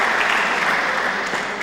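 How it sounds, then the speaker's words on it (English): Crowd applauding steadily at a men's handball final at Croke Park, a dense, sustained clapping that fills the whole moment without talk. "And the crowd here at Croke Park respond to the efforts"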